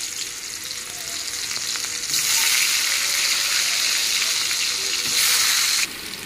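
Chopped onion hits hot oil already seasoned with a bay leaf while vegetarian taro greens are being cooked. A steady, close sizzle swells louder partway through and keeps crackling throughout.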